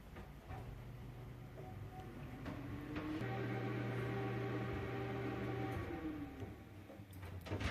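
A food dehydrator set to 118 and loaded with Italian-style crackers runs with a faint, steady electric hum and airy fan noise, holding a low tone throughout.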